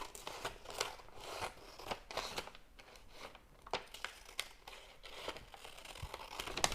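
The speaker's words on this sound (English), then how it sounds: "Snip off the raw edges." Scissors snip off raw fabric edges for a handmade Valentine's Day gift, a quick irregular series of close, crisp cuts with soft rustling of the cloth between them.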